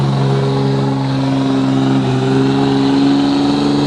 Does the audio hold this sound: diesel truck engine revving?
yes